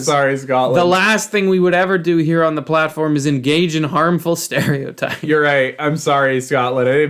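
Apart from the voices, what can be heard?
No distinct noise like a dog, phone or traffic.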